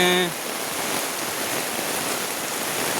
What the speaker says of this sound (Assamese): বৰষুণ বতৰ দেখিছেনে?